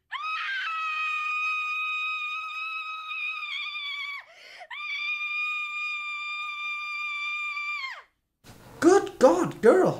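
A woman's long, piercing scream from the horror comedy film Lesbian Vampire Killers holds loud and steady for about eight seconds, dips briefly midway, then cuts off into a few short, breathy vocal bursts.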